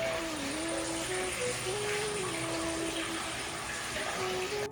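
Water pours steadily from the mouth of a Nandi statue into a temple tank at a Mahadev shrine in Gir, a continuous rushing stream that stays constant and close throughout, with a faint tonal hum running underneath.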